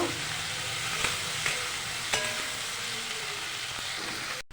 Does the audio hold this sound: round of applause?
no